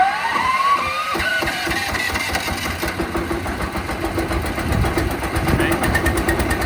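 A new wood chipper's engine starts with a rising mechanical whine, then settles into a steady, fairly loud running drone while people talk nearby.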